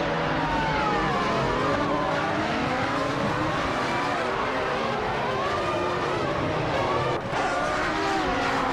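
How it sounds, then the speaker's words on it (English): A Sauber C14 race car in a racing video game, its engine whining steadily at high revs with shifting pitch, loud and continuous throughout with a brief dip near the end. "Hingle McCringleberry is driving a Sauber C14"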